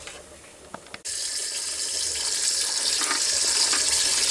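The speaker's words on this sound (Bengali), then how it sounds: "আমি রাইসটা দিয়ে দেবো, দিয়ে জল দেব, দিয়ে খুব ভালো করে 3 থেকে 4 বার আমি ধুয়ে নেব।" Water pours steadily from a running tap into a bowl of rice in a home kitchen, starting abruptly after a few faint clinks and continuing as a loud, even rush.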